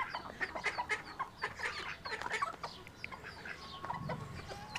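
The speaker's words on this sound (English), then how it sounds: "these are our chickens and bantams" Chickens and bantams clucking and calling in a busy, overlapping chorus in a backyard farm, with some higher bird chirps mixed in, fairly close and steady throughout.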